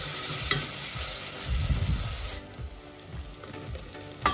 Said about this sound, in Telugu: కొద్దిగా అప్పటికప్పుడు దంచుకున్న జింజర్ గార్లిక్ పేస్ట్ వేసేసుకొని అలా మనం ఒక 1 మినిట్ అలా మిక్స్ చేసుకుంటే సరిపోతుంది